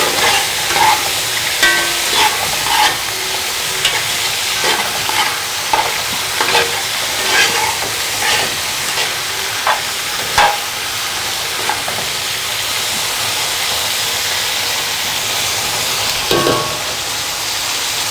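Salted potatoes sizzle steadily in a frying pan while a utensil stirs them. The stirring makes repeated scraping clicks in the first half and eases off later, all close and loud with no talking.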